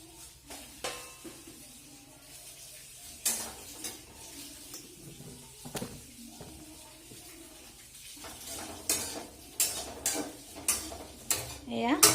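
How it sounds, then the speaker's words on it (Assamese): Semolina (suji) is dry-roasted in a pan over a low gas flame while being stirred, giving soft, irregular scrapes and clinks of the spoon against the pan that come in quiet, close bursts. "এয়া চুজিখিনি প্ৰথমতে ভাজি লওঁ একেবাৰে গেছটো কমাই লৈছো"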